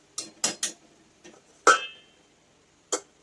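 A metal lid clinks onto a pan of tomato chutney with crushed peanuts and sugar on a kitchen stove, among several sharp taps and one louder ringing clank, near and otherwise quiet.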